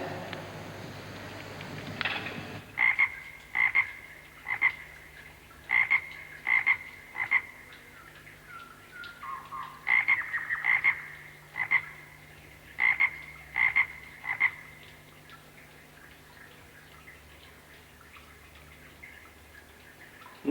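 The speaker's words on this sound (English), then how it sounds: "This must be the splendid tree frog we were told about." Splendid tree frog in the Kimberley wilderness croaking loudly and close, about a dozen sharp calls in short clusters and pairs over roughly twelve seconds, then falling silent against a quiet background.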